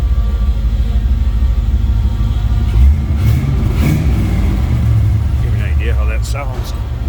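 A 1967 Chevrolet Camaro restomod with a more modern engine under the hood runs in neutral, a steady rumbling idle with a brief rev swell partway through, heard up close.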